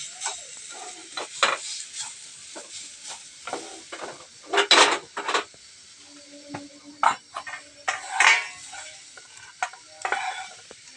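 Spoon stirring a coconut and milk powder filling in a pan for sweet potato gokul pitha, with irregular scraping strokes and soft sizzling, close and clear with no talking.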